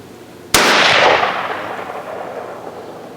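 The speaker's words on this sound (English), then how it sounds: "time to change tactics and pull out the rifle" A single loud rifle shot fired while hunting axis deer, a sharp crack followed by a long rolling echo that fades over a few seconds outdoors.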